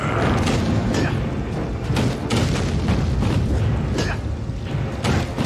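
Dense, continuous rumbling of mechanical thuds and impacts with repeated booming hits of catapult shots striking a gate in a The Lord of the Rings: The Two Towers video game, loud and close, with no speech.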